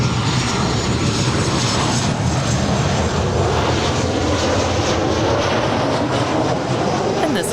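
A Southwest airliner takes off from runway 24 left at LAX, its jet engines giving a loud, steady broadband roar that fills the whole stretch without pause.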